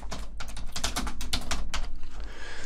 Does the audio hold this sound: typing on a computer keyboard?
yes